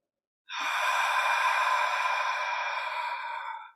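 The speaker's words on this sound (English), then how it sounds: "So inhale deeply and exhale." One long, slow breath: a deep airy inhale through the nose flowing into an exhale, soft and close, steady for about three seconds before fading into silence.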